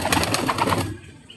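Pigeons cooing in a loft during cleanup of a sick colony, several soft rhythmic coos close by that stop short near the end, with no talk over them.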